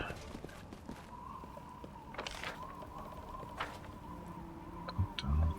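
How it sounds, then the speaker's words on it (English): Hooves of plagued horses clip-clop steadily in the Pathfinder: Wrath of the Righteous fantasy role-playing game, mixed with a sustained tonal hum, faint bird-like chirps and a brief low thump near the end. "Dead plagued horses."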